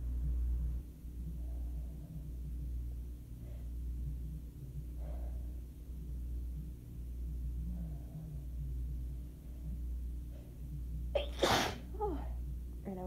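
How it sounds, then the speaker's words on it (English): A single sharp sneeze bursts out near the end, loud and close, after a long stretch of quiet breathing over a low steady hum. "Definitely gonna sneeze."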